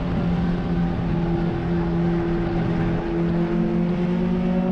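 Onboard engine of a BMW 2002 race car at Sonoma, a steady, droning mechanical hum holding a constant pitch throughout, moderately loud and with no voices.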